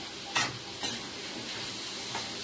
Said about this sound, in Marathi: आता मी चांगले त्याला मिक्स करून घेणार.